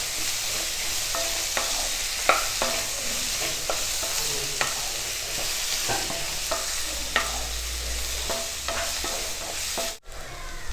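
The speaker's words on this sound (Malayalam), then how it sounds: "ഇതിലേക്ക് ഒരു 1/4 കിലോ ചുവന്നുള്ളി ചെറുതായിട്ട് കനം കുറച്ച് നീളത്തിൽ അരിഞ്ഞത് ചേർത്ത് കൊടുക്കാം. ഇത് നന്നായിട്ട് വഴന്ന് വരണം." Thinly sliced red shallots sauté in oil for a Chettinadu-style chicken roast, a steady loud sizzle broken by frequent spoon scrapes and stirring knocks against the pan.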